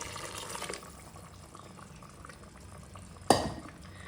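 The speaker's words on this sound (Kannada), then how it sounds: "ಈಗ ಈ ಕಾಯಿ ಹಾಲನ್ನ ಇಲ್ಲಿಗೆ ಹಾಕ್ಕೊಳ್ಳೋಣ ಪಲಾವಿಗೆ" Coconut milk poured into a pot of vegetable pulao on the stove, a soft steady liquid wash with a brief louder splash near the end.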